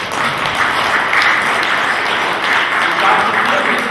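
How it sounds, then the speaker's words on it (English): Church congregation clapping during a sermon, a loud continuous mass of applause with voices mixed into it. "Shall we give a clap to the King of Kings?"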